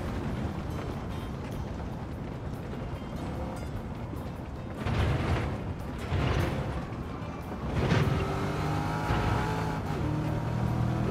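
Race car engine in Gran Turismo 7 drones steadily at high revs, rising in a few rough surges as it nears corners, no talk over it.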